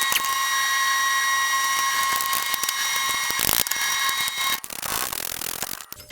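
Ratchet wrench loosening rusty 10 mm bracket bolts on a Honda Ridgeline during alternator replacement, rapid continuous clicking of the pawl, close and loud, with a brief pause and a harsher burst of metal noise near the end.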